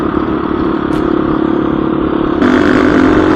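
A Husqvarna 350 dirt bike engine buzzes steadily up close, with a brief dip as the throttle backs off for a shift before it picks up again, rougher and louder.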